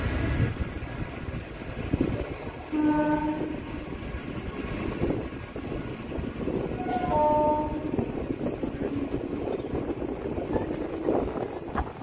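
Ranaghat-Krishnanagar local train running via Shantipur on a quiet Sunday, a continuous loud rumble of wheels and carriage with two short tonal horn or brake whines, heard from on board.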